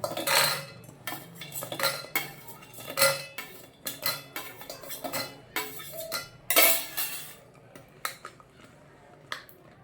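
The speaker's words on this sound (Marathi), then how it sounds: "त्यामध्ये आपण गुलाबजाम टाकून घेऊया" A metal spoon clinks and scrapes against a steel pot as semolina gulab jamun are added to cooled sugar syrup, a string of sharp, close, irregular clatters with no talk.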